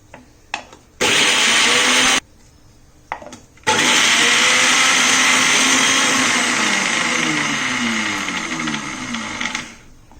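A mixer grinder whirs loudly, grinding soaked dal in two short bursts and then one long steady run that winds down near the end, with no talk.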